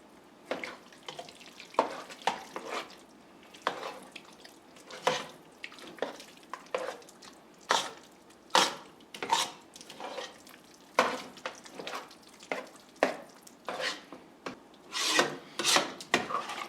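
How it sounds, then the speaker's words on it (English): A spoon stirring thick buffalo chicken wing dip with blue cheese in a pot, repeated rhythmic scraping strokes, close and distinct with no talking. "Now you just keep stirring this until it's really nice and creamy and liquidy."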